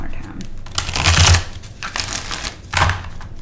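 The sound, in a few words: shuffling tarot cards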